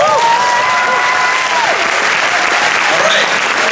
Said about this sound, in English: Those fights deserve another round of applause.